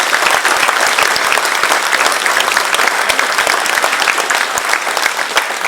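An audience applauds the Talyllyn Railway for its 75th year, with loud, dense clapping that continues steadily throughout without a break.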